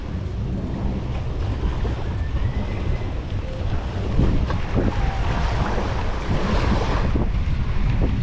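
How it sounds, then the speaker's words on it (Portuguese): Strong wind buffets the microphone during a mountain bike ride near Cabo Frio, a loud, continuous roar with no voices heard. "É só um vento, né?"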